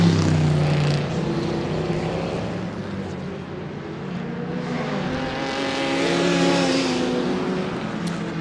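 Historic race cars, including a Lotus, lap the Goodwood Revival circuit in a continuous, loud engine roar that swells and fades slightly as the cars pass, with no voices over it.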